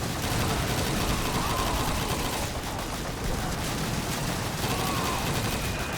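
Sustained machine gun fire and battle noise from Call of Duty 2 at Pointe du Hoc, a dense continuous roar of gunfire with bursts layered over it, steady and loud throughout, with no clear talk.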